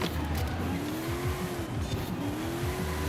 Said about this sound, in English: forcing the car to drift a little bit here